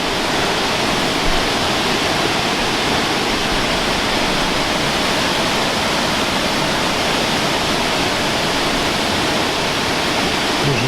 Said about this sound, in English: Going down to the waterfall.